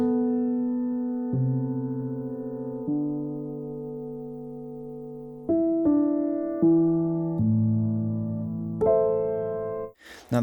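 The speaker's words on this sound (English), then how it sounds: "the very first thing you hear is just this piano, which is a lab soft piano" A LABS Soft Piano heard dry with no effects, a slow sequence of soft sustained chords, each struck and left to decay, played alone before a short noisy blip at the very end.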